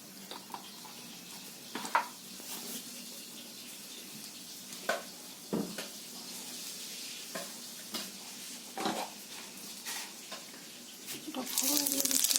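Oil heats in a kadai for a katla fish curry with potato and green tomato, giving a steady, quiet sizzle broken by occasional clinks and stirring knocks.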